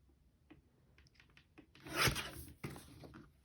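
Photo being trimmed down for a scrapbook page, a soft rasping cut rising to one louder scraping stroke near the middle, followed by a brief rub, faint and close.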